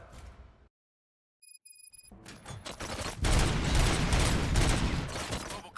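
Gunfire in the video game RoboCop: Rogue City: after a brief silence and a few electronic beeps, a sustained roar of rapid shots and booming fire builds loud and dense, continuing to the end.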